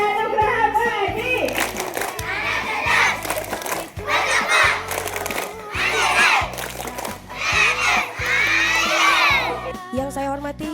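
Primary school children at an orientation event chant and shout in rhythmic unison as a crowd, with bursts of voices rising and falling over steady music.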